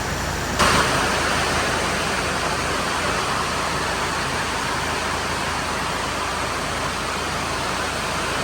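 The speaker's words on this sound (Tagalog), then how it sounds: "bigla pong bumuhos ang malakas na ulan" Heavy rain pours down in a dense, steady roar of broadband hiss with no break, loud and close.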